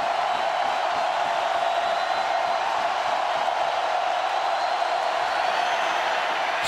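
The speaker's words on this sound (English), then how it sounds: "Crowd trying to help the LSU defense." A packed football crowd at Tiger Stadium in Baton Rouge roars continuously for the LSU defense against Auburn on third down, a dense, steady wall of cheering with no breaks.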